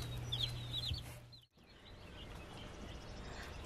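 Young chicks being raised together, high thin peeps and chirps scattered over steady background noise, with a brief drop in sound midway.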